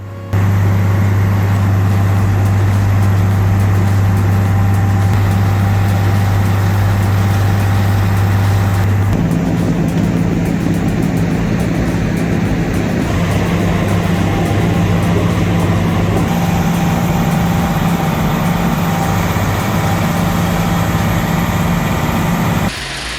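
A Vermeer tree grinder runs continuously while coloring mulch, a loud droning engine with a deep steady hum that shifts pitch a couple of times as the load changes, close and uninterrupted.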